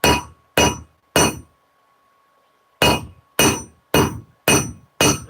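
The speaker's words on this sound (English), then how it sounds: "Sorry, I'm hammering." Hammering on metal, with seven sharp ringing blows: three evenly spaced strikes, a pause of about a second and a half, then four more in a steady rhythm, each leaving a short metallic ring.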